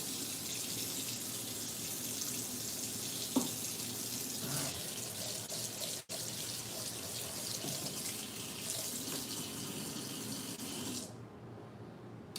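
A kitchen faucet runs steadily while something is rinsed under it, with a soft clunk midway and the water shutting off near the end.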